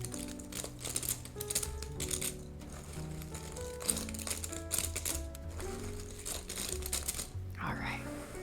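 Pieces of a 1000-piece jigsaw puzzle being shuffled by hand, a steady rattling clatter of small cardboard pieces close by, with music playing and a voice briefly near the end.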